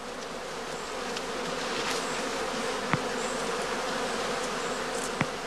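Honeybees buzz densely around a straw skep hive, a steady close drone of many wings with a few brief sharp clicks standing out.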